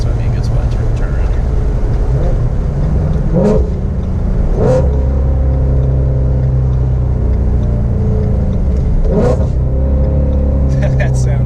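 A Ford Mustang GT350 with a flex fuel engine rumbles and revs loudly from inside the car, with a few sharp bursts of throttle over a steady low drone.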